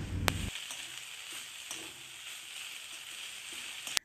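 Mustard greens frying in a pan on a home stove, a steady close sizzle with faint stirring scrapes throughout, opening with a brief louder clatter and ending on a sharp knock.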